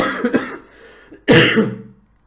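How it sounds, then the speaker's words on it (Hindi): Two coughing bursts, a short one then a louder, longer harsh cough, close to the listener with no talking. "सॉरी यार, ये खांसी थोड़ी सी मैनेज कर लेना बस"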